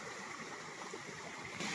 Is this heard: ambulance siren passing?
no